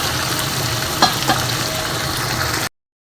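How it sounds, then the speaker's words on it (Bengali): Soybean chunks fry and sizzle steadily in a pan, stirred for vegetarian soybean curry, with a couple of brief scraping stirs before the sound cuts out. "দেখো সোয়াবিনটা ভালোভাবে কষছে"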